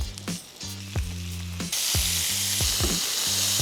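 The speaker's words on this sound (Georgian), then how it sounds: "დავასხათ ზეთი და შევწვათ ჩვენი ყვალვიანი კომბოსტო." Boiled cabbage fries in oil in a pan, sizzling loudly, and the hiss swells as more goes in, while music with a steady beat plays over it.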